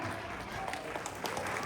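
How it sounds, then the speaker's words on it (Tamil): An audience at a Tamil school annual day claps for a fifth-grade dance performance, a dense, continuous wash of applause from many hands. Voices are mixed into the clapping. "பெரிய கைத்தட்டல் கொடுத்துடலாம்."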